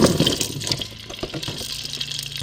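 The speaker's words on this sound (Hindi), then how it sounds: "घी हमारा तकरीबन गर्म हो चुका है," Raw potatoes slide into hot ghee in a handi for Afghani-style aloo gosht, setting off a loud, steady sizzling hiss and bubbling that carries on with no voice over it.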